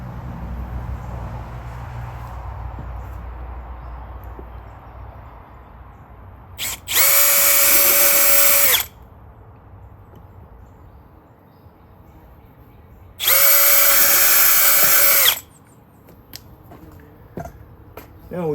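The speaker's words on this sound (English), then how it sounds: "One slip of this screwdriver, no more speaker" Two bursts of a power screwdriver, each about two seconds, driving screws into 6.5-inch Cicada Audio speakers in the rear of a Harley Ultra Limited. The whine is loud and close against a quiet background.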